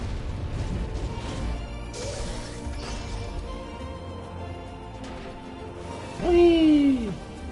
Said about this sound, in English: And big explosions.